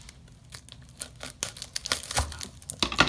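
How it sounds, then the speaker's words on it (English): Shallots being peeled by hand in a kitchen, with crisp crackling and tearing of papery skins in irregular bursts, close and fairly quiet. "I guess I'm just gonna peel that kind of like you would an onion"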